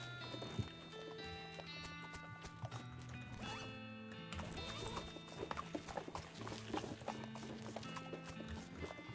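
Horse hoofbeats in the video game West of Loathing, a quick run of clip-clop steps over a busy bed of game music and effects, moderately close.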